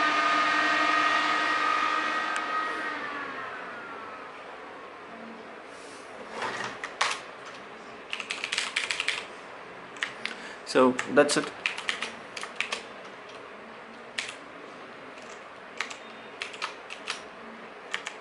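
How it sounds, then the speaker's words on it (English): A fading hum gives way to scattered clicks of keys being typed in short irregular bursts, nearby and fairly quiet, with a brief spoken remark. "I'm typing my password because I have too many."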